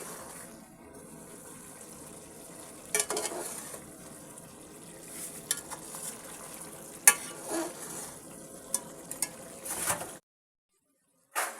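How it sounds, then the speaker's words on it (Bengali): Spices for beef bhuna being stir-fried in a pan, a low sizzle with irregular scraping and clattering strokes of a spatula, close and fairly quiet, cutting to near silence before one final stroke. "এবার আমি মশলাগুলো দিয়ে সুন্দর করে কষিয়ে নিচ্ছি।"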